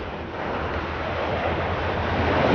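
Sea waves break on a shore in a steady, loud, unbroken wash of surf that slowly swells, with wind rumble underneath and no voices.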